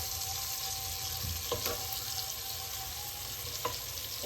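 Onion frying and browning in a pan for a meat dish, a continuous close hiss of sizzling oil with a few brief clinks and scrapes from stirring.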